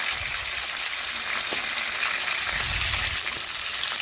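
Catla fish heads fry in oil in a pan, a steady, moderately loud sizzling hiss with faint bubbling and no talk.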